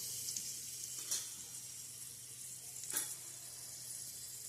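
Asafoetida dropped into hot oil in a pan sizzles with a soft, steady hiss, and two brief sharper crackling bursts stand out over the quiet background.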